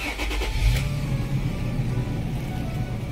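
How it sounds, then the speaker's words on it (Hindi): A 2019 Toyota Fortuner automatic 4x4 with about 187,000 km starts up: a short cranking burst, then the engine catches and settles into a steady, close idle, with no talk. "तो ये गाड़ी स्टार्ट करते हैं।"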